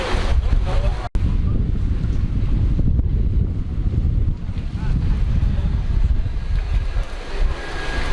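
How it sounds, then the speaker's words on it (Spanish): Floodwater rushes and wind blows during the DANA flood in Valencia, a loud continuous churning roar with gusty noise close to the microphone and a brief dropout near the start. "Poco a poco el agua va ganando terreno."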